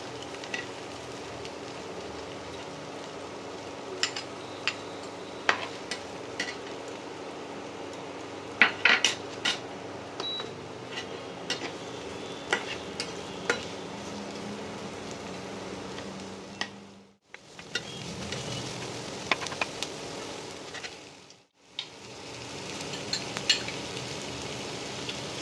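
Chopped onion fries in a pan for a pointed gourd and prawn dish, a steady low sizzle running throughout with frequent sharp clinks and scrapes of a utensil against the pan, broken briefly by two short pauses.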